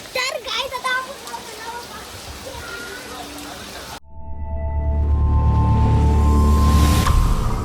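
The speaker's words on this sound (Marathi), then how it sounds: "आवडे जोऱ्यान पाऊस आले" Heavy rain pours down, first as a spattering patter, then as a louder, denser roar of rain drumming on surfaces, with voices and some background noise in the opening seconds.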